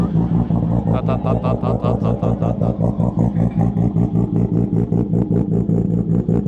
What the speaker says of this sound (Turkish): Gel bir de arkasına gidelim egzozunu duyalım ya.